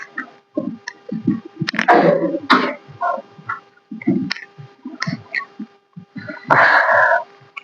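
Repeated short coughs and throat clearing in bursts, close by, with a few harsher rasping fits between quieter gaps.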